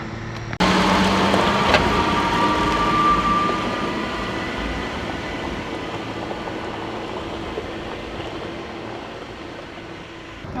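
A 4x4 grinds along an off-road track in the mountains of northern Spain, its cabin filled with a constant broad rumble and road noise that starts loud and eases slightly as the drive continues.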